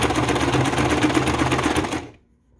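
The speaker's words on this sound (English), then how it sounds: "tuck this under and tuck this under slightly, and we'll continue sewing," A sewing machine stitches cord for boho-style craft decor, running in a steady, loud, fast mechanical whir for about two seconds before stopping abruptly into silence.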